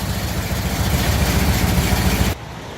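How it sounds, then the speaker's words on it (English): A 1981 Ram pickup's 360 V8 with a Wolverine racing cam idles loudly and close with a lumpy, throbbing rumble, then drops suddenly to a quieter level near the end. "That's a 360 with a Wolverine racing cam."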